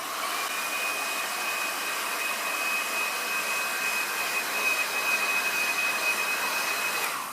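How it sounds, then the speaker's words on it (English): Heat gun blowing hot air over car wrap film on an Audi R8 GT3 bonnet, a steady close whooshing roar with a faint whine that runs unbroken throughout. "I'm going to use the heat gun now, just to help the wrap relax"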